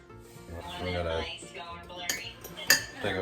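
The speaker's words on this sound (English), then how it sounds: "I'm gonna take a fork and mix it all in here." A fork stirs milk, eggs, cornmeal and Creole seasoning in a bowl, giving soft close scraping with a few sharp clinks against the bowl near the end.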